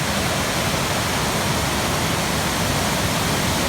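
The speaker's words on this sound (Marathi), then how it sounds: "पाणवठ्याच्या ओढ्याचा आवाज इथपर्यंत आहे" A dense, unbroken roar of a stream swollen by days of heavy rain fills everything, loud and constant, close by.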